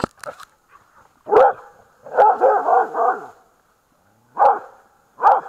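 A dog barks in several loud, close bursts, some quick runs of yaps and a few single barks separated by short pauses, with no talk over it.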